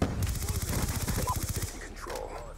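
Vector submachine gun in Black Ops 2 on Xbox 360 letting off one fast continuous burst of closely spaced shots for about a second and a half, then cutting to quiet game ambience.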